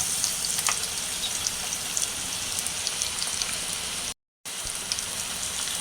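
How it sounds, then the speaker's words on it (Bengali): Steady, dense hiss of heavy rain pattering outside, heard from indoors, continuous throughout with a brief dropout near the end; no talking. "আমাদের এখানে হচ্ছে অনেক বৃষ্টি হচ্ছে সেটা বাইরেও একটু শব্দ পাবেন"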